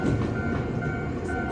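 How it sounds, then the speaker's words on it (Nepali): A train pulling into a station in Japan, a continuous near rumble with a steady tonal hum, loud and alone with no talking. "अब चाहिँ यहाँ ट्रेन आइरहेको छ"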